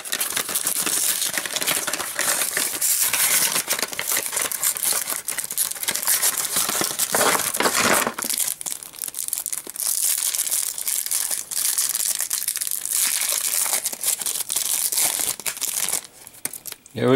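Crinkling and tearing of a foil trading card booster pack being ripped open close by, continuous rustling that runs throughout with a short pause midway.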